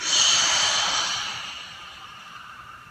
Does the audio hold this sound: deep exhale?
yes